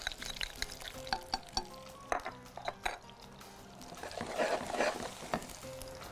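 Two garlic cloves sizzling in a small spoonful of ghee in a heated pan, a steady crackling fry broken by light clinks and stirring scrapes, close and fairly quiet.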